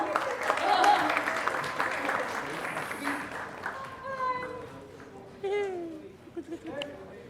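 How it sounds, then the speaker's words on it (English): A crowd at a media calendar launch event applauds, with busy clapping loudest at the start, then thinning out as people begin talking over it. "Let's clap for Charisma."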